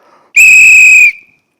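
A sharp, loud whistle blown once in a hospital setting, a single steady piercing blast lasting under a second that rings briefly before cutting off.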